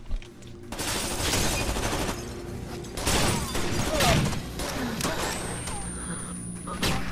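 Auto shotgun fire in the video game Rainbow Six: Vegas 2, with dense, loud bursts of blasts and rapid gunfire layered over game ambience.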